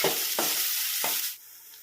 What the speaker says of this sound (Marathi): कांदा आता लाल होईपर्यंत चांगला भाजून घ्यायचा।